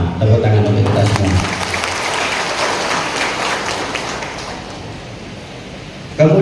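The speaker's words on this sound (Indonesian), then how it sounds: "Tepuk tangan untuk kita semua" Audience applause at an Indonesian Gerindra party gathering where Lebaran parcels are handed out, a broad steady wash of clapping that starts under a brief voice and slowly fades, with a voice returning at the end.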